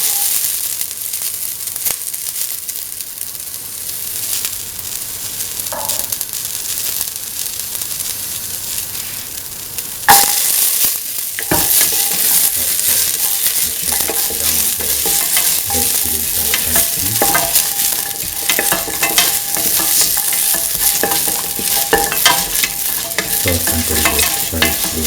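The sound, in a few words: shallots frying and being stirred in a pan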